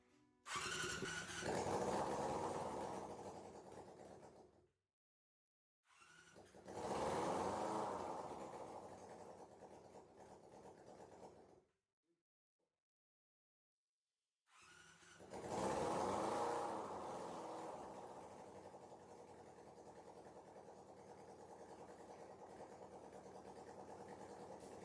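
A 1987 Honda CBR motorcycle engine, with newly sorted wiring, cranks and catches three times, running in loud bursts separated by silences, the last start settling into a steady idle.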